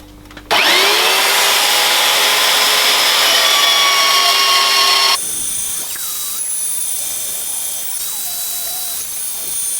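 A saw cuts out a knife blank from 3.2 mm 1080 steel, starting abruptly with a loud, steady high-pitched screech of blade on metal, then dropping to a quieter cutting hiss with brief squealing tones as the blade works around contours.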